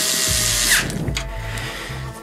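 Power screwdriver driving screws back into the door frame of a Siemens IQ700 washing machine, giving several short whirring bursts in a steady on-off rhythm, close and fairly loud.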